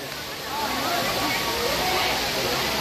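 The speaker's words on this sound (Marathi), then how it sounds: "इकडे पण एक धबधबा आहे" A waterfall at Malshej Ghat in the monsoon roars as a constant broadband rush of falling water, steady and fairly near, with people talking over it.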